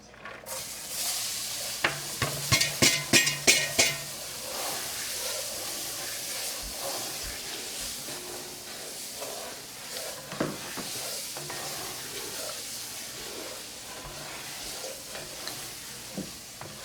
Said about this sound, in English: I can't turn loose of stirring this roux yet